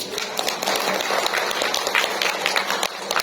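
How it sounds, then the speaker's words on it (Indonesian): Seminar audience claps on cue during a business talk, a brisk, dense patter of many hands heard fairly close and steady for a few seconds. "Tepuk tangan dong."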